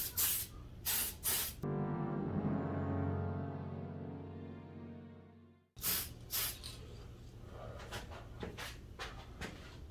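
Aerosol spray paint can hissing onto a DeAgostini Millennium Falcon model, preceded and followed by rapid rattling bursts, with one long continuous spray of about four seconds heard up close.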